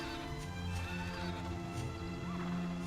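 A horse in the Dragon Quest video game neighs and its hooves clop, set over steady game music and effects, brief and moderately loud.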